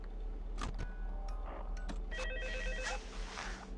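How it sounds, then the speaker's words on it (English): A telephone rings in the horror video game Five Nights at Freddy's 2, repeated electronic ring bursts sounding over a steady low background hum. "Yeah, pick up the phone"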